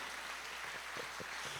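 A church congregation applauds, a faint, distant wash of clapping lasting under two seconds with a few nearer claps standing out.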